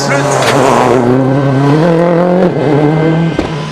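A Mitsubishi Lancer rally car at the 2007 Monte Carlo rally drives hard on a tarmac stage, its engine loud and close as it revs up and changes gear, with commentary running over it.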